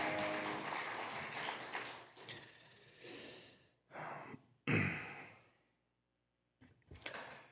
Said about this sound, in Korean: 다시 한번 우리 큰 박수로 주님께 영광 올려드리겠습니다.